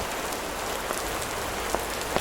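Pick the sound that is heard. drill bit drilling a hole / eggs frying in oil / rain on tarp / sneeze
rain on tarp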